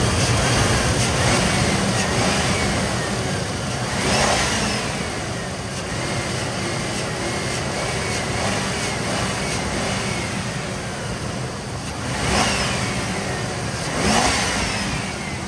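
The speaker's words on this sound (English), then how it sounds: "That should more than adequately prove to you that it does not have any weird engine noise." A 1997 Lincoln Town Car Cartier engine revs up and settles in repeated swells over a steady running drone, with louder bursts around the fourth, twelfth and fourteenth seconds; no talking.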